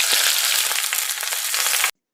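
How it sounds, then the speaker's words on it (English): Thin pork chops frying in oil, a dense close sizzle and crackle with quick spatters that stops abruptly after about two seconds. "We are frying some thin pork chops."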